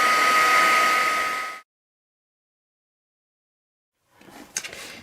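A heat tool blows hot air to melt embossing powder on a stamped card, a steady roaring whoosh for about a second and a half that cuts off abruptly, followed by silence and then a few soft handling taps and rustles.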